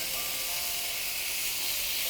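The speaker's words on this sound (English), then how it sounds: "once it heats up, we're going to add our steak" Steak searing in a skillet over high heat for tacos dorados, a steady, dense sizzle and hiss that stays even throughout with no talk.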